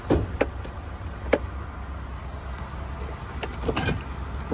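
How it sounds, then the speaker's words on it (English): Power windows on a 2018 Ford F-150 XL Supercab, a low motor hum running under several sharp clicks and thuds from inside the cab. "You have your power windows on the vehicle"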